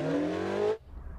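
A race car pulling out of the pits, its engine note rising steadily for under a second before cutting off abruptly, leaving only faint low rumble; close and fairly quiet overall.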